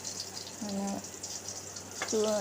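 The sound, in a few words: shallots sizzling as they fry in coconut oil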